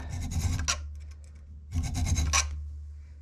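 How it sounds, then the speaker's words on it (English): A metal file rasps across a Springfield Model 120A rifle bolt in two close, loud bursts of quick back-and-forth strokes, separated by a short quiet pause. "I may want to try a file first before I get to the Dremel"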